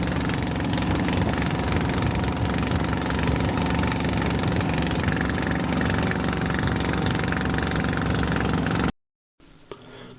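On the trip to Koh Adang in Thailand, a boat engine runs loud and close with a rough, knocking chug, then cuts off abruptly near the end, leaving a brief quieter stretch.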